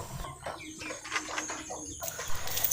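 A chicken sick with CRD respiratory disease makes faint, irregular raspy snoring and clucking sounds in several short bursts, quiet and a little distant, with no talk.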